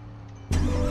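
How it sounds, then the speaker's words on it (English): A 2021 ZL1 car engine starts up in the Roblox video game, a sudden loud catch halfway through that settles straight into a steady, throaty idle. "Let's start this car."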